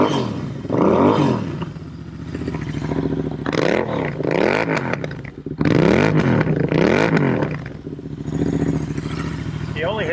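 A Royal Enfield Interceptor 650 motorcycle set up for dirt riding warms up nearby, its engine idling and revving in repeated swells and drops, with people talking over it.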